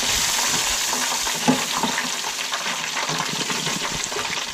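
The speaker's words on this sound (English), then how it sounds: "these are frying up really good" Tripletail fillets fry in a pan until golden brown, a loud, steady crackling sizzle of hot oil with occasional stirring pops, close up and without talk.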